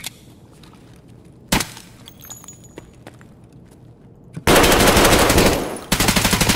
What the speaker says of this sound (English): me and this dude are having the biggest firefight